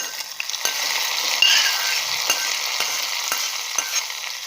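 Hot oil sizzling as curry leaves are tempered and stirred into pumpkin mor kuzhambu, a steady close hiss with small crackles and a few light ladle scrapes.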